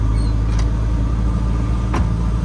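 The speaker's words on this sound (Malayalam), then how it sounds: "നമ്മളതിൻ്റെ ഒരു ഓട്ടോയിൽ കയറി" Steady engine drone and road rumble from inside an auto rickshaw on the move near Jammu, loud and continuous, with a couple of brief rattling clicks and no talk.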